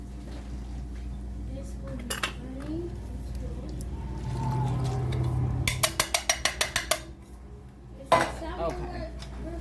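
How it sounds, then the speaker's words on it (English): A spoon stirs beef stew with beans, corn and potatoes in a pot, giving a quick run of close metallic clinks and scrapes, then a single knock. A voice talks over parts of it. "I'm going to stir all of this around together."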